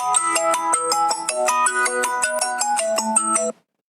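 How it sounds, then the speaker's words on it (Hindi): A melodic phone ringtone plays a quick repeating electronic tune for about three and a half seconds, loud and close, then cuts off into silence. "वापस फोन कॉल आ गया।"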